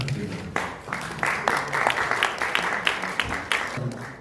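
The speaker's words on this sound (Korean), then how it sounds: "많은 박수 부탁드립니다" Audience applause at a dental insurance seminar in Korea, welcoming a lecturer; a moderate, steady patter of many clapping hands, fairly close and even throughout, with some voice-like sound mixed in.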